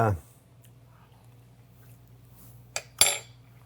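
A metal spoon is picked up and handled while salad dressing is being made in a kitchen: two sharp clinks close together near the end, over a low steady hum and a quiet room.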